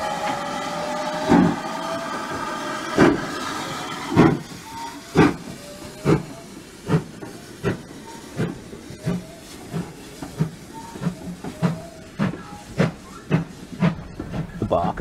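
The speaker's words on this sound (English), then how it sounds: "The exhaust was music to the ears when the engine" Rhythmic chuffing of a Great Western mogul steam locomotive's exhaust, beats gradually quickening as the engine pulls away, with a whistle-like tone early on.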